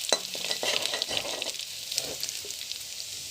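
Garlic frying in a generous amount of oil in a village-style kitchen, a steady close sizzle with occasional stirring scrapes, no talk.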